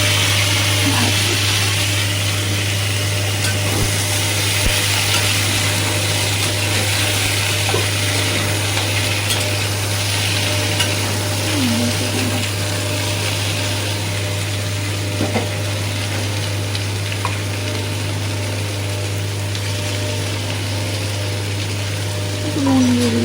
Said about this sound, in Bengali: আলু কাঁচকলা সব ভেজে নেবো এখানটা, তেলের মধ্যে দিয়েই একসাথেই দিয়ে দেবো